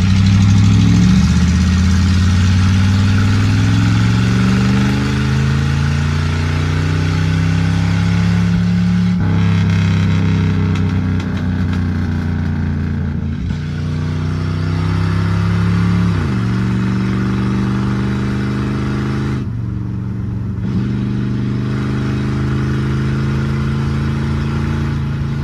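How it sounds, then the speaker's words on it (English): Ford LTD engine droning loudly and steadily at high revs, with brief dips as the throttle lifts and the car shifts up, the pitch stepping down after each change, close and without talk. "I'll let off the throttle, let it pop for a little bit, and then we'll shift up."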